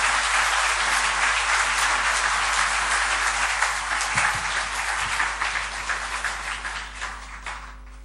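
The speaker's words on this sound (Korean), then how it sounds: "우리 힘찬 박수로 한번 환영하면 좋겠습니다." A church congregation at a Sunday service gives a loud, sustained round of applause to welcome the pastor, dense clapping filling the hall and tapering off toward the end.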